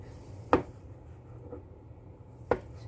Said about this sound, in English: So just slicing up the shiitake mushrooms.